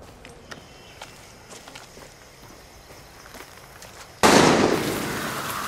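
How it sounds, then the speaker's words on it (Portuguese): Gunfire breaks out in the Far Cry 6 video game: after a quiet stretch of soft footsteps and faint ambience, a sudden loud burst of shots erupts near the end and its echo slowly fades. "Merda, quem tá atirando?"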